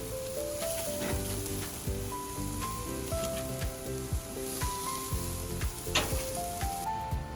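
Short ribs sizzling on a grill give a constant close sizzle with crackles and spits, broken by repeated low thumps and clanks of handling, with no one talking.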